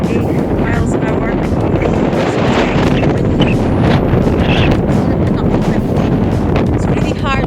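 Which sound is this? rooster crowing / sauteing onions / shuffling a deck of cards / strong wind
strong wind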